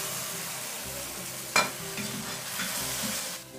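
Garlic, dried chillies, mustard seeds and garam masala sizzle in an open pan, a close steady frying hiss with a sharp clatter of stirring partway through and no voices.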